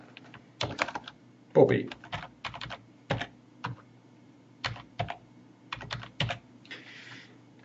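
Rapid, irregular keystrokes on a computer keyboard as a password is entered during RoboForm Pro master password setup, close and crisp, with a brief spoken word partway through.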